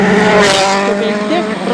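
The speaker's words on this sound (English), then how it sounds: "he's made the same mistake, an identical overshoot for Sordo" Rally car at full speed into a fast gravel corner at the 2009 Rally de Portugal, its engine loud and close with a high, strained tone that rises and falls, and a commentator talking over it.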